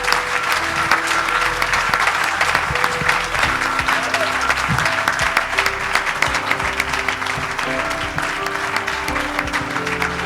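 An audience at a book dedication ceremony applauds steadily, dense clapping from many hands sustained for about ten seconds, with faint voices and music underneath.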